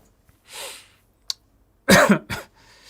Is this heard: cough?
yes